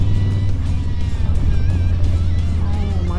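Riding a Harley-Davidson fitted with an RWD RS-1 monoshock, the motorcycle's loud steady engine drone fills the ride, with surrounding road traffic blended into the engine noise and wind.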